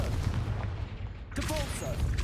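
A Confringo fire spell cast in the Hogwarts Legacy video game bursts out as a dense, roaring blast that fills the clip. A voice speaks briefly over it near the end.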